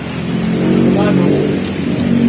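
Steady heavy rain pours in a constant loud hiss, with a faint voice briefly audible underneath.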